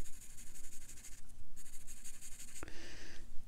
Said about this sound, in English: You'll erase this part.